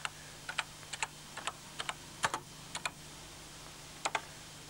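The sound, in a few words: typing a program line on a BBC Microcomputer keyboard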